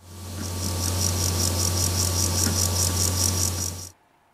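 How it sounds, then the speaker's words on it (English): A marsh meadow grasshopper sings in moist tall grass, a loud, close, rapidly pulsed buzzing chirp that runs steadily for about four seconds and then stops abruptly. "The marsh meadow grasshopper"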